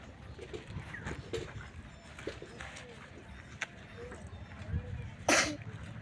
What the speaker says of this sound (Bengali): ওই যে হাঁচি দিল, যে হাঁচি দিয়েছে সর্দি বেরিয়ে এসছে।